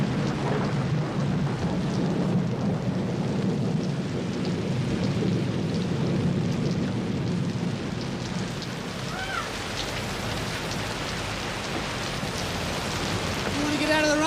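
Steady rain pours down with deep rolling thunder beneath it, a dense continuous wash of falling water, while a few faint chirping or whining sounds rise near the end.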